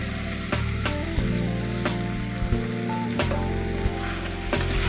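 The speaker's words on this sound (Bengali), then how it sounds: "ভেজে রাখা আলু আর এঁচপটা আমি দিয়ে দেবো" Fried potato and jackfruit go into hot oily masala for an echor kalia, sizzling loudly and continuously, with occasional spoon scrapes and knocks against the pan.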